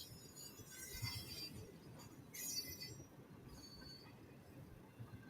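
Recorded train ambience, a steady rumbling rail car with faint wheel squeal and metallic hiss swelling now and then, continuous and moderately distant with no voices.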